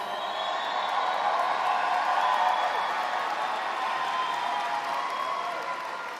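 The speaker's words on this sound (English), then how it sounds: "you just gave a standing ovation to a robot" An audience at a graduate programs ceremony gives a standing ovation, a dense, sustained wash of applause and crowd noise that swells and holds steady at a moderate distance.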